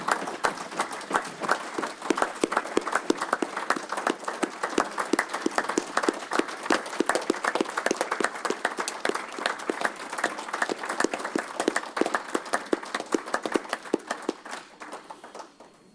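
Sustained applause from council members at a county council meeting, dense rapid clapping from many hands filling the room evenly for about fifteen seconds before tapering off at the end.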